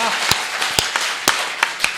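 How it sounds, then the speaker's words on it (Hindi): Audience at a shayari poetry recital breaks into scattered, sharp handclaps, several distinct near claps spaced irregularly over a low background murmur. "एक बार जोरदार ताली अपने लिए बजा दीजिए।"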